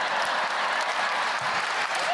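Women in a live stand-up comedy audience clap steadily in a dense, continuous burst of applause, close and loud throughout the short stretch.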